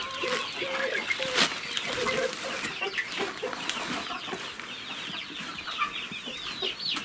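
Chickens clucking inside a shed, a close flock giving repeated soft clucks and squawks in an irregular rhythm over quiet background sounds, with faint human voices now and then.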